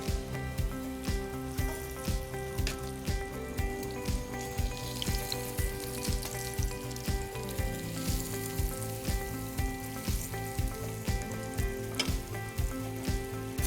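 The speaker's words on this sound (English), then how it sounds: "Now we place our lamb shanks straight into the pan." Lamb shanks sear in hot oil in a pan with a steady, loud sizzle and crackle, while regular rhythmic knocks and scrapes repeat throughout at close range.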